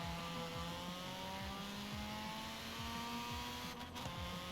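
Car engine in Forza Horizon 4, a Pulsar GTIR, revving steadily with a continuous droning note and repeated rising gear sweeps, loud and alone.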